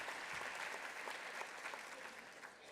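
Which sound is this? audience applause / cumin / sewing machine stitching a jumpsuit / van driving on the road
audience applause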